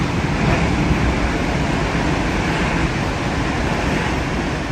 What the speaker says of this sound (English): Serious waves.